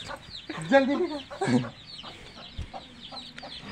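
A hen clucks close by in a home with a cat, giving a few short bursts of clucking. People talk and shout between the calls.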